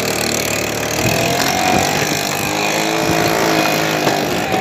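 A 50cc scooter engine runs steadily at close range, its buzzing mid-pitched drone constant and loud throughout with a slight rise partway through, no talk over it.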